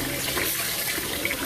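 Water running and splashing in a pot as starchy rice is rinsed for a second time before cooking, a steady close-up wash of liquid with no talking.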